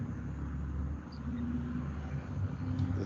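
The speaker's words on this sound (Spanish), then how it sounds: "Se escucha más el ruido de los carros de fondo." Background traffic from passing cars heard through a home microphone: a low, continuous rumble that stays faint and steady for a few seconds with no talk over it.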